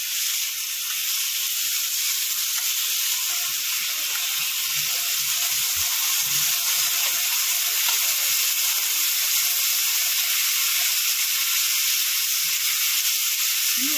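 Sour yogurt is poured into a pan of tomato and onion sautéed with salt, giving a steady, loud, close broadband sizzle that holds evenly throughout with no talking.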